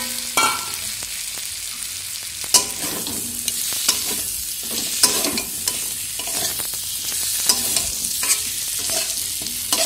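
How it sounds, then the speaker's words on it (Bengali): Fried potatoes go into a hot pan of masala cooked with turmeric, salt and chili powder and are stirred. Close, lively sizzling runs throughout, with repeated scraping and clattering strokes of the spoon. "এখন আমি ভেজে রাখা আলুগুলো দিয়ে দেবো"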